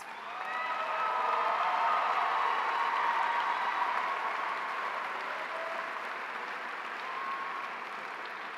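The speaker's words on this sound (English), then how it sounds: "Give yourselves a huge round of applause." Graduates and guests at a 2018 community college commencement ceremony applaud together, a dense, sustained wash of clapping that swells early and then holds steady at a slightly lower level through to the end, with faint cheering mixed in.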